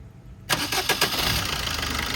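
A 2013 Maruti Suzuki SX4 diesel engine cranks and catches abruptly, then settles into a loud, steady diesel rumble with a few quick revving pulses at the start.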